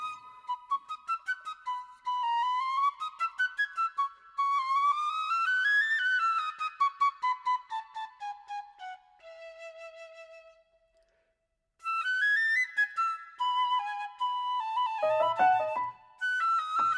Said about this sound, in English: think this is piccolo flute.